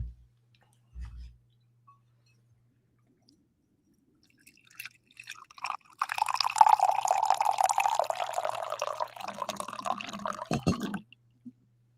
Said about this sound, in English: everybody's begging for the coffee pour